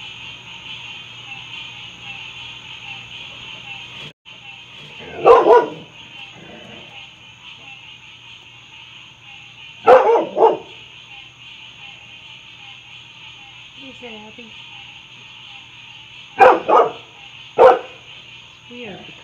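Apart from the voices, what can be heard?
dog barking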